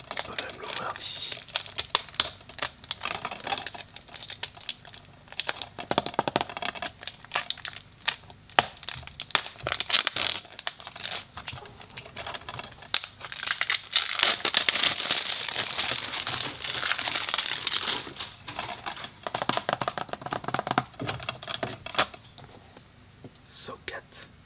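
A wrapped Saw DVD box set is opened up close, its plastic film crinkling and crackling in bursts while a person whispers throughout.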